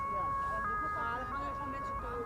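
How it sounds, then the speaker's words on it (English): An ambulance siren sounds on a road near Amsterdam Schiphol Airport in winter, a steady wailing tone held at moderate distance under a constant background hum, with people talking over it. "Oh no, there's an ambulance."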